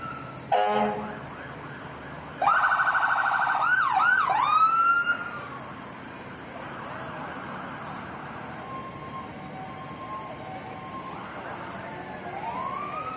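Emergency vehicle sirens at a Fourth of July parade wail and whoop, a loud burst then a longer rising-falling siren, followed by fainter siren sweeps farther off over a low rumble.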